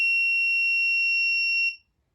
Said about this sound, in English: the ultrasonic sensor was able to pick up my hand, and the buzzer started ringing